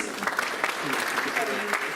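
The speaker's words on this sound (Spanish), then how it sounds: "agradecemos con un fuerte aplauso a nuestros dos expositores anteriores" Audience applause at a 2019 regulatory law conference thanking two previous speakers: dense, steady clapping from a full room that holds for about two seconds.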